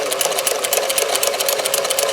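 A Singer 431G sewing machine fitted with a 161158 zigzagger attachment stitches in a fast, even mechanical chatter, close and steady throughout the short burst.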